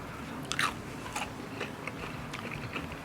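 Up-close crispy crunching as homemade teriyaki bacon jerky is bitten and chewed, a sharp first bite followed by softer irregular crackles, quiet with no voices.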